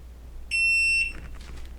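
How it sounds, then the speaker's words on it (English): A single sharp electronic beep from an Unagi Model One Voyager electric scooter, high and clear, sounds for about half a second, followed by faint clicking. "And you'll hear 2 beeps."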